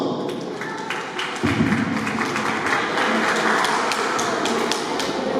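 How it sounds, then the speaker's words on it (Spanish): Applause at a baptism celebration, dense and steady, swelling after the first second and holding strong through to the end, with no voices over it. "¡Aplausos!"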